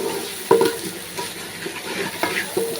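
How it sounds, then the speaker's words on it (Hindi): A spoon stirring onion paste with dry spices (salt, garam masala, black pepper) frying in a pan for mutton pulao, with a soft steady sizzle and occasional scraping knocks against the pan, close and without talk. "खुश्क मसालों को भी अच्छे से मिक्स कर लेना है"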